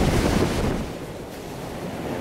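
Waves surge into the rocky Kiama Blowhole, a loud rush of churning sea water that swells at first and then ebbs to a softer, steady wash under wind noise, with no voices.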